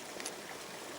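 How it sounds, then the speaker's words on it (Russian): Water poured out outdoors while gold prospecting in nature, a brief soft trickling splash that is faint and steady. "Выливаю воду"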